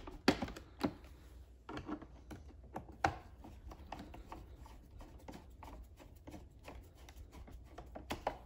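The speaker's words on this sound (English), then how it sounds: "Take your 4 screws, put them back in the body." Small screws are set back into a Roomba robot vacuum's body, giving scattered close clicks and taps of metal on plastic with a louder snap at the start and a few sharper knocks later, and no talking.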